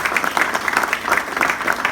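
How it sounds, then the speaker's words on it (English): Applause from members at a club assembly, a steady, fairly close flutter of many hands clapping without a break and with no talk over it. "Guys, please give them a round of applause."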